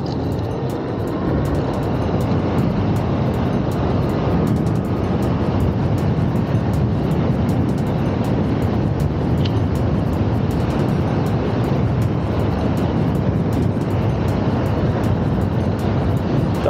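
A Kaabo Wolf King electric scooter ridden fast in turbo mode, gear 3, with a modified seat. The recording is dominated by steady, loud rushing wind and road roar that holds constant throughout.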